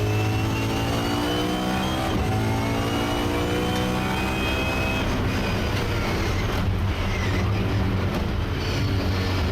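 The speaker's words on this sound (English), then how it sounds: "The gear changes are so fast." A supercar accelerates hard, its engine note climbing and dropping through quick successive gear changes and downshifts, loud and sustained without any talking.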